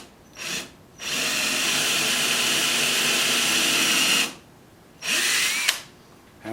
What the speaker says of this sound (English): So my first step is to drill a hole.